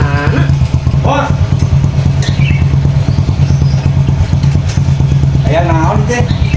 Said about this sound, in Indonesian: Ah, ini teh motor teh. Teu bisa maehanana kumaha bengkel teh.